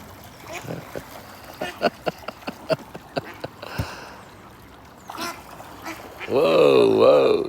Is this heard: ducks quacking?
yes